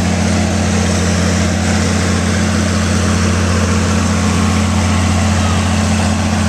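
A wood gas generator engine on a farm runs steadily under load, a loud continuous droning hum with a strong low tone and no pauses, heard close.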